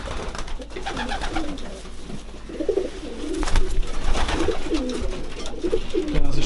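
Racing pigeons of the Iwan line coo repeatedly at close range, soft throaty calls rising and falling over faint background noise.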